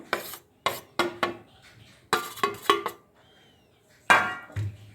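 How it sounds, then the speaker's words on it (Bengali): Chicken pieces coated in egg and cornflour are stirred and turned in a bowl, giving several short, close scraping and rubbing bursts separated by brief pauses. "এটাকে দিয়ে একটু নেড়ে নিচ্ছি, উপর নিচ করে দিচ্ছি"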